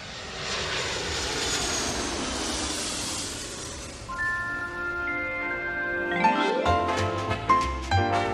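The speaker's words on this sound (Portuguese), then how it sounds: "Preparar aqui o comandante Arruda, preparar a aeronave para decolagem imediata." Airplane engines spool up for immediate takeoff, a broad roaring rush that builds and shifts, with rising tonal whines joining in partway through, loud and continuous with no talk.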